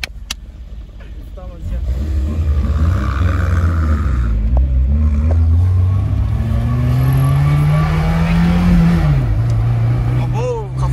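A Tofaş car fitted with a Mercedes engine revs up loudly and close by, the engine note climbing steadily over several seconds before dropping, with people talking over it.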